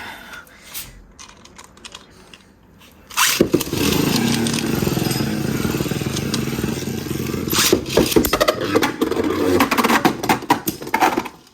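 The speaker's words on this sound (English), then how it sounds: "We will now test battle Wind Knight in downforce mode against Ultimate Valkyrie." Beyblade Burst spinning tops, Wind Knight in downforce mode against Ultimate Valkyrie, launch into a stadium with a sudden rip, then a continuous loud whirring grind broken by sharp clacking collisions.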